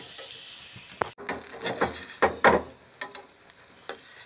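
Chicken steam roast cooks in a pan with about one spoon of oil as it browns, with soft sizzling and irregular close scrapes and taps of a utensil turning the pieces.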